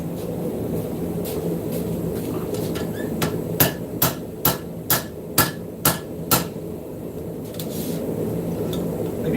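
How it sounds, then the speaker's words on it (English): Hammer forging metal in a shop: a run of about eight sharp, evenly spaced ringing blows over a steady background hum, loud and close. "let's go ahead and continue forging"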